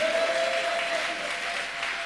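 A church congregation claps and cheers for Jesus at a worship service, a dense, steady wash of applause from a large crowd that fills the room and fades slightly toward the end.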